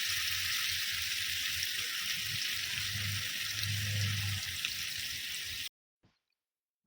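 Shahi jeera sizzles in hot oil in a kadai, producing a continuous bright hiss with faint low crackles underneath that stops abruptly near the end, leaving brief silence.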